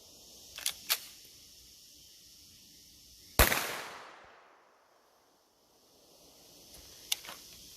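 A few sharp gunshots from an FN 509T pistol fitted with a Russian Delta-Tek flash hider: two quick small pops, then one loud crack with a long decaying echo, and a faint pop near the end, with no talking.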